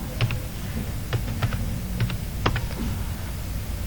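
Someone types a search keyword on a computer keyboard, with a series of separate key clicks spaced irregularly over a low background hum and no speech.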